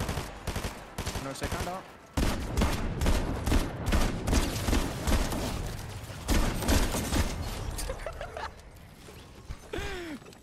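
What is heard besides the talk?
gunfire in video game Fortnite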